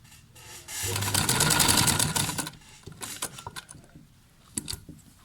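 A sewing machine stitches a V-shaped neckline, with a close, rapid whirring run of stitches followed by several shorter bursts and pauses as the needle turns the corner.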